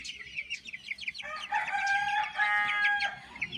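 A black rooster lets out a crow while hens cluck and chirp around it nearby, a short, close farmyard burst in Namangan.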